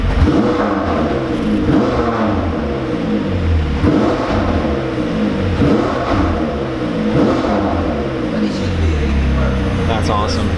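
A McLaren 720S engine revs hard in repeated surges, loud and close, with a deep throbbing roar that rises and falls throughout.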